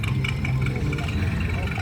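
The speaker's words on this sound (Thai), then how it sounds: "พามาเบิ่งรถไถค่ะพี่น้อง" A farm tractor engine runs steadily with a low, droning rumble that holds at a constant level for the whole stretch, close and continuous with no pauses.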